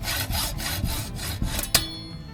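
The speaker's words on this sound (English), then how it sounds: "I'm going to measure out what I need for spacers, and then cut these to length." Hand saw cutting motorcycle front brake spacers to length on a 2002 Sportster chopper, close rhythmic back-and-forth strokes at a steady pace, ending with a sharp final stroke.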